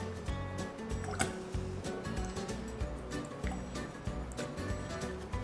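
Fractionated coconut oil is poured close up onto menthol crystals, producing soft trickling and dripping liquid sounds in uneven bursts against a quiet background.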